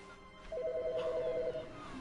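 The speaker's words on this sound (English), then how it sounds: "Phone's ringing again." Repeating electronic telephone ring from The Stanley Parable video game, a pulsing double tone sounding several times in quick succession, fairly clear over a quiet office ambience.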